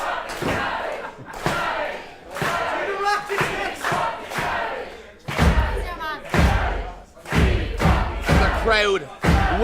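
A wrestling crowd at a Phoenix Wrestling show roars and chants in rhythmic surges to spur on Steve Savage. Loud shouts and heavy thuds mix with voices, all close and energetic.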